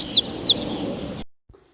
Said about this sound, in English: A sparrow chirps.